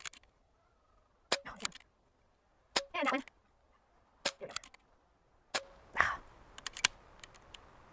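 Diana Stormrider Tactical airgun fired offhand: several sharp, separate shots spaced a second or more apart, each a crisp snap close to the microphone, with brief speech between them.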